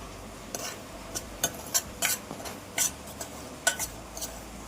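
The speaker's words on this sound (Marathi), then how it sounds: "मी आधी हा रवा न तेल टाकताच भाजणार आहे" Semolina (rava) dry-roasted in a pan without oil, stirred with a utensil that gives faint, irregular scraping taps and clicks against the pan over a quiet background.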